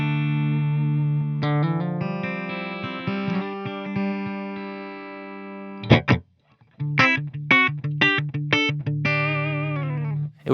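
A Blackstar St James 50-watt valve head on its clean channel with the reverb turned down: an electric guitar rings out sustained clean chords, then plays a run of short, choppy plucked notes with brief gaps between them.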